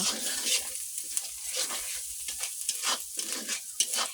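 Duck meat sautéed in a pan gives a loud, bubbling sizzle with stirring scrapes, steady and near, over a short stretch without clear talk.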